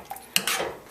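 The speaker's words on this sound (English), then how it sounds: "Just going to stir that around a little bit." A spoon scrapes and clinks against a pot while sweet potato and squash soup is stirred, with a sharp knock followed by a brief swishing scrape, close and clear.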